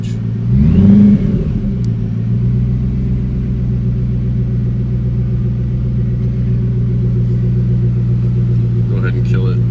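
A 750-horsepower Whipple-supercharged Ford GT engine idles with a loud, steady low rumble, building in a brief rev early on, a supercharger whine riding over the engine note; people talk nearby.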